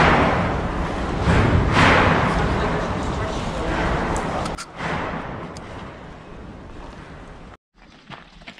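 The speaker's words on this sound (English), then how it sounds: "It was just due to a huge thunderstorm raging on the outside." Heavy thunderstorm rumbling and banging batter an abandoned factory building in long, loud roiling waves, then abruptly cut off near the end.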